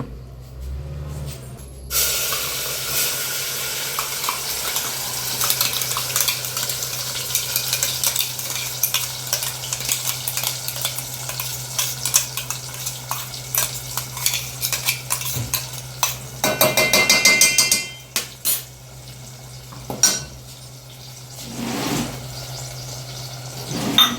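A masala of raw onion, garlic, fresh coconut and coriander cooks in oil in a pot, with a continuous close sizzle, scraping stirs of a metal spoon and clinks against the pot rim, louder bursts near the end.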